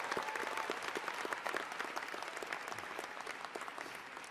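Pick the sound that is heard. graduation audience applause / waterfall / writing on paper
graduation audience applause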